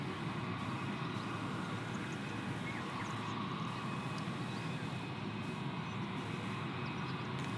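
Jetstar airliner arriving at Gold Coast Airport from Perth in heavy rain, heard as a steady, fairly distant jet rumble blended with a constant wash of rainfall, with no voices.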